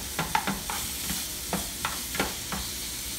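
Shrimp and broccoli being stirred in a hot frying pan, a spatula scraping in short irregular strokes over a steady sizzle, close and fairly quiet with no talking.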